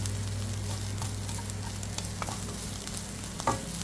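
Cashews and raisins frying in ghee give a low, steady sizzle with a few soft stirring clicks, close and fairly quiet under a constant background hum.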